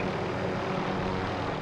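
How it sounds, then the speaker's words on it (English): A helicopter in Call of Duty Warzone flies with a dense, steady rotor-and-engine roar, loud and close, filling the whole short moment without any voices. "We're in the helicopter and we're off."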